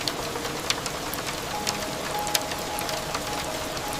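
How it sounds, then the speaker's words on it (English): Steady rain falls in a dense, even hiss with scattered louder drop impacts, continuous and unbroken throughout. "Rain returned"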